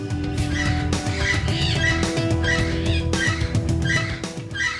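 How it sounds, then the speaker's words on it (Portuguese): A small group of red macaws squawks and screeches, with harsh overlapping calls repeating steadily, loud and close. "aqui a gente tem um grupinho de araras vermelhas."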